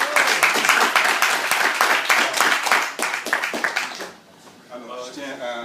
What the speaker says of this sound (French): Une bonne applaudissement.